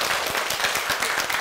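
Students in a high school Thai language class clap together, a dense run of overlapping hand claps at steady volume throughout, with no one speaking over it.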